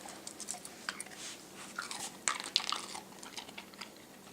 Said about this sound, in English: see, that has some crunch to it